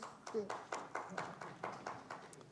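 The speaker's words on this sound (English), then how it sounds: "That's called tepid applause." Thin, tepid applause from a small audience at a foreign policy discussion: a few scattered hand claps in a loose, sparse rhythm, fairly faint and short-lived.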